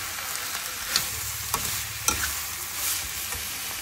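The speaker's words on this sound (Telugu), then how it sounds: "ఇప్పుడు రెండు కలిపి బాగా ఫ్రై చేయాలి." Bitter gourd and fried onion being stir-fried together in a stainless steel pan give a steady close sizzle with scraping stirs of a spatula, no talking.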